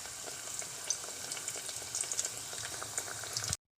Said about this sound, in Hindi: तो इसमें हम एक एक करके समोसा डालेंगे।